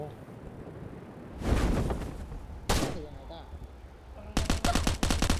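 Gunfire in the mobile survival game Last Island of Survival: a short burst, then a single loud shot, then a rapid automatic string of shots, all loud and close over a low background rumble.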